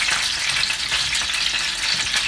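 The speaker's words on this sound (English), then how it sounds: "Now I am going to add these tomatoes." Chopped tomato pieces hit a hot frying pan while cooking a spicy garlic masala brinjal dish, giving a steady, dense sizzle that holds loud and even throughout with no one speaking.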